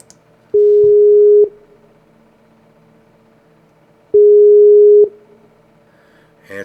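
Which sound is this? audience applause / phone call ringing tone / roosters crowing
phone call ringing tone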